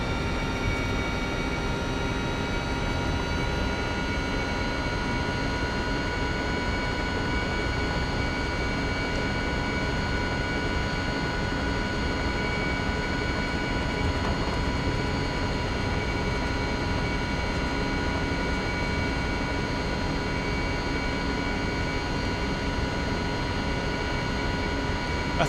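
A Mil Mi-2 Hoplite helicopter in a flight simulator game hums with a steady engine and rotor drone, constant and unchanging for the full stretch, with no voices over it.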